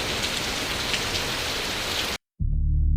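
Steady, heavy rain falls on a surface as a dense, even hiss for about two seconds, then cuts abruptly to a brief silence and a low, different tone.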